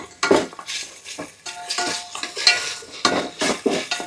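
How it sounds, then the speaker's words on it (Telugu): Ginger garlic paste is stirred in hot oil in a pan for chicken biryani. A spoon scrapes and clatters in quick, uneven strokes over a light frying hiss, close by and without talk. "కొద్దిగా అల్లం వెల్లుల్లి పేస్ట్ ఆయిల్లో ఫ్రై చేసుకుందాం."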